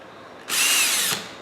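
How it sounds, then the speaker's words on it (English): A cordless drill with a small bit whirs in one short, loud burst lasting under a second, pre-drilling into a wooden window screen frame up close, then stops. "take a cordless drill and a really small drill bit and do a little pre-drill"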